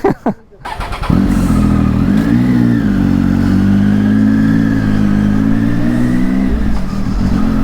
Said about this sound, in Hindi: so I don't know video में आवाज़ कैसी आ रही है आप लोगों को नए एग्जॉस्ट की